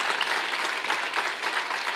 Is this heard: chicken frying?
no